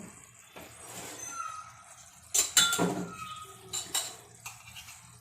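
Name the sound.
small pan placed on gas stove for ghee tempering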